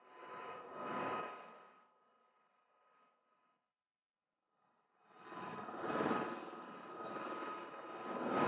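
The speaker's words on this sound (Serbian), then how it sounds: "koji se za nekoliko sekundi desantiraju iz helikoptera niz uže" A helicopter during the Drina 2016 anti-terrorist exercise by a Serbian special unit rumbles in two loud swells of engine and rotor noise, cut by a stretch of near silence between them.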